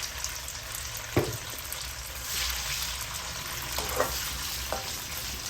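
Small tofu cubes fry in a non-stick pan with a steady, close sizzle, broken by a few sharp utensil taps and scrapes.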